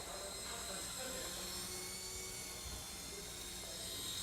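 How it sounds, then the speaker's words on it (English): A small Walkera x100 RC helicopter whines steadily at a high pitch, its motor and rotor buzz continuous and fairly close, with faint voices underneath. "It's a pretty agile helicopter, you can toss it around a little bit, it's pretty quick."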